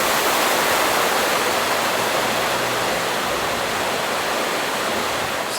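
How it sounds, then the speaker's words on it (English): A river rushes below the Riverside Inn in Boscastle, Cornwall, a continuous loud broadband roar of flowing water, steady and close with no voices. "we have a nice sound of the river flowing all night long whilst we sleep"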